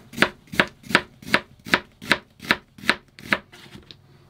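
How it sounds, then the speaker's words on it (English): A knife slices half a red onion thinly for burgers, giving ten crisp, evenly spaced chops on a cutting board, close and clear with no talking. "I'm going to slice up half a red onion for our burgers."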